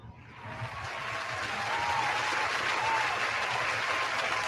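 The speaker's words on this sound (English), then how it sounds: "Round of applause." A round of applause swells quickly and holds as a steady, dense patter of many clapping hands, fairly even and unbroken throughout.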